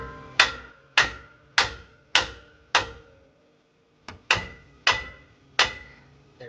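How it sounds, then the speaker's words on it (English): Eight sharp metallic hammer strikes on a 2015 Ram 1500 lower control arm, four in a steady rhythm, a brief pause, then four more, each ringing briefly, close and loud. "take a hammer, whack it"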